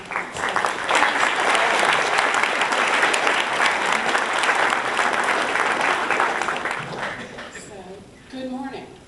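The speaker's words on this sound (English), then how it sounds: "let's give the Northeast region a round of applause." Conference audience applauding loudly and steadily for several seconds, many hands clapping close and dense, fading toward the end before a speaker's voice begins.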